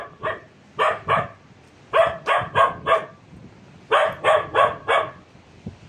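A dog barks nearby from atop a grave in a cemetery at night, in repeated bursts, pairs and runs of four sharp barks separated by brief pauses, with no talking.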